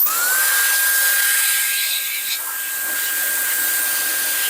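A GOOLOO F3 rechargeable compressed air duster blows at speed 3, its motor whine rising quickly at the start and then holding as a steady, high-pitched rushing hiss throughout.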